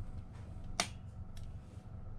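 A Crucial DDR4 2666 MHz RAM module clicking into its slot in an Alienware M15 laptop, one short sharp snap midway, close and distinct over a low steady hum, with a fainter tick after it.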